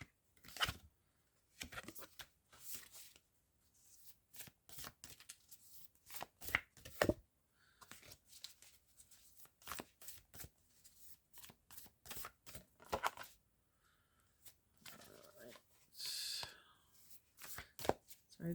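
Repeated riffling and slapping of a card deck being shuffled, in uneven bursts with brief pauses, close and fairly quiet.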